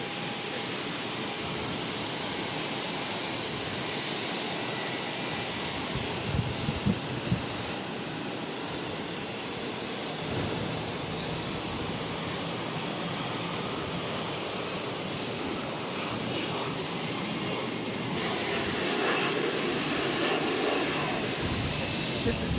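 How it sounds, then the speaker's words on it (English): Delta Airbus A321 airliner rolling down runway 22 right at Boston, a distant broad jet roar that builds gradually and swells toward the end, faint and steady under the airport ambience. "Also a Delta A321 also rolling down 22 right."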